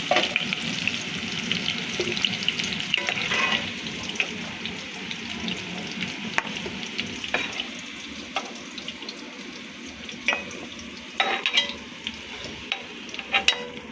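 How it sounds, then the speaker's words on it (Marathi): Potatoes frying in a pan for Punjabi-style aloo gobi, a steady sizzle with scraping stir strokes and clinks of the spatula recurring throughout, close and moderately loud with no talk. "त्या स्टेजवर आपण हे फ्लॉवर काढून घेऊया आणि बटाटे फ्राय करून घेऊया"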